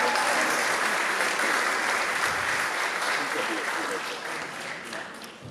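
Dense, continuous audience applause at a community theatre festival, honoring photography exhibitors; a full hall of clapping, loud at first and gradually fading over several seconds.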